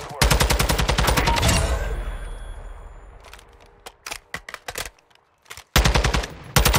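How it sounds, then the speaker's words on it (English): Sniper gunfire in Modern Warfare 2 DMZ: a loud rapid burst of shots opens, then scattered sharp single reports, and a second heavy burst near the end, with little talk. "We have some snipers here."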